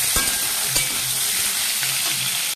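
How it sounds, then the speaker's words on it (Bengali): Food frying in hot oil in a pan, with turmeric added, giving a loud, dense, continuous sizzle close up, with occasional stirring scrapes and no talk. "ভালো করে ভেজে নেবো।"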